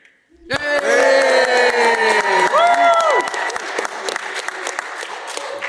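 A live audience at a PAX East show erupts into loud cheering and clapping, with whoops and shouted voices over dense applause that swells quickly, then settles into steadier clapping.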